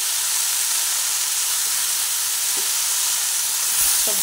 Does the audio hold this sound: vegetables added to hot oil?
yes